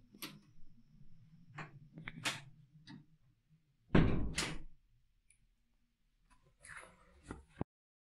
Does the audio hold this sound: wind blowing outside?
no